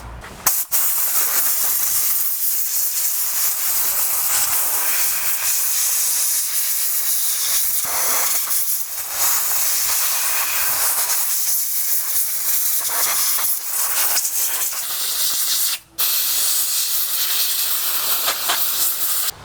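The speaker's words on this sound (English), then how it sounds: "when you air blow all the dirt off your clutch cover" Compressed air blasts dirt off the clutch cover of a STIHL chainsaw in a loud, steady hiss held close for nearly twenty seconds, broken by one brief pause near the end.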